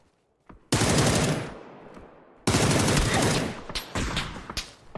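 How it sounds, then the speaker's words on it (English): Gunfire in a video game, heard as two long loud bursts of rapid shots, the first fading out and the second ending in several sharp separate cracks, close and with no talk. "That's a headshot across the goddamn map."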